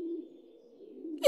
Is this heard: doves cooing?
yes